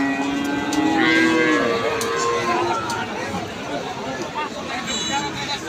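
Cattle low and moo repeatedly at a busy livestock market in Naogaon, Bangladesh, with long mooing calls rising over steady crowd chatter and market noise.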